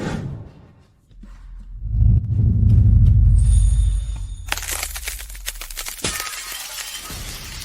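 Mirror glass shatters in a sharp, bright crash that follows a deep rumbling build-up, then tinkling fragments scatter and rattle loudly for several seconds, with no voices.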